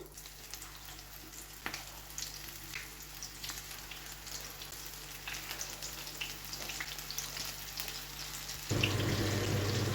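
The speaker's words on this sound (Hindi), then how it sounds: "तो अब इनको करते हैं फ्राई पकौड़ों को।" Spinach and potato pakoras fry in hot oil in a kadai with a steady close sizzle and scattered pops. The sizzle swells suddenly louder toward the end.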